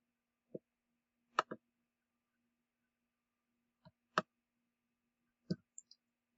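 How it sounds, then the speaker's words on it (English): A computer mouse clicking several times at irregular intervals, some as quick double clicks, soft and close against near silence. "Click submit."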